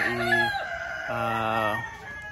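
A rooster crows twice in loud, drawn-out calls, with clucking hens close by between the crows.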